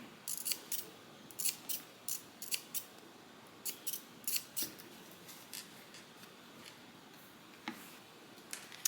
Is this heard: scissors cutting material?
yes